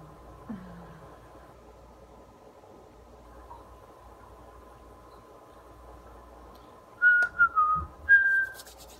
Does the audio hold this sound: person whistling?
yes